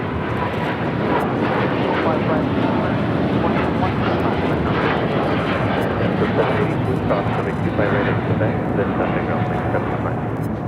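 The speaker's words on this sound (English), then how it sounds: "885 taking off to Hong Kong on the 777-300ER" A Boeing 777-300ER airliner roars loudly and steadily during its takeoff at Los Angeles International Airport, a broad continuous jet rumble sustained throughout.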